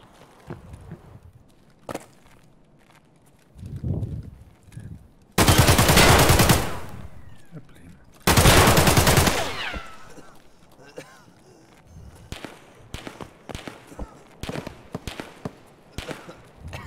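Gunfire in Escape from Tarkov: a single shot, then two long loud bursts of automatic fire, followed by scattered sharp shots and footsteps, with someone talking in between.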